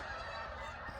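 A large flock of geese, around a thousand or more birds, honking together as a dense, continuous chorus in the distance, steady and moderately loud throughout.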